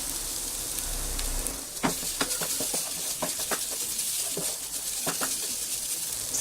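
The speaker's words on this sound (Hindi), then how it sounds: "और अब हम इसमें डाल देंगे ग्रेट किया हुआ पनीर, मिक्स करेंगे" Grated paneer stuffing is stirred in a hot pan, with a soft steady sizzle underneath and a series of scattered scraping clicks from the spoon against the pan.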